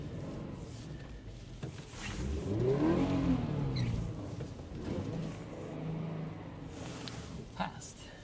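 A 2020 Subaru BRZ, rear-wheel drive, makes a quick turnaround on a winter road, its engine rising and swelling as it revs through the maneuver, then settling back to a steady hum.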